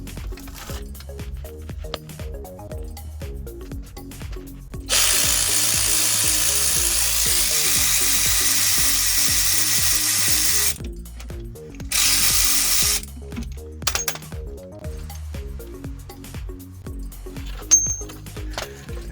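Impact wrench bursts loosening 15 mm bolts on the front end of a WK1 Jeep Grand Cherokee SRT8, one long loud whir of several seconds then a shorter burst, with ratcheting clicks and clanks in a garage between them.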